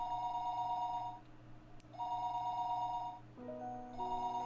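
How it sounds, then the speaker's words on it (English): A telephone rings downstairs in a quiet house, repeating tonal rings with short gaps over a low steady background hum, moderately faint and with no voices. "The phone rang noisily downstairs."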